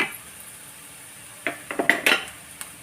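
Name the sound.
grated coconut being sautéed in a pan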